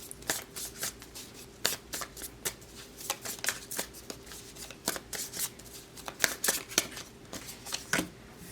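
Tarot cards are shuffled by hand in a series of crisp, quiet riffles and slaps, arriving in uneven bursts close to the microphone against a quiet room with no talking.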